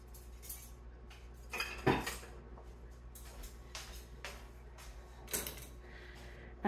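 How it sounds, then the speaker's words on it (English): Metal utensils clatter and clink in a kitchen drawer while a potato masher is fetched, with scattered close knocks and one sharp clang, and no talk. "I am just going to get a potato masher."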